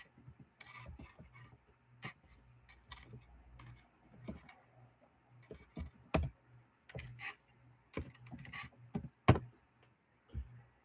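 Slow, hesitant typing on a computer keyboard, with scattered single key clicks and a few louder taps separated by quiet gaps in a still room.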